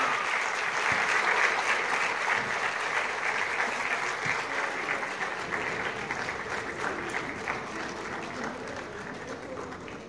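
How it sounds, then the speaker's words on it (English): An audience at a preschool's annual function claps continuously. Dense applause fills the hall and slowly fades toward the end, with occasional louder claps near the front. "Come on, the clap should go on, people."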